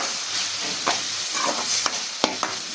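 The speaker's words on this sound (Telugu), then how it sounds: "ఇలా కొంచెం కొంచెం పసుపు వేసి ఫ్రై చేస్తున్నాను" Masala with tomato puree and turmeric fries in a pan, a continuous near sizzle broken by a few sharp spoon scrapes and taps.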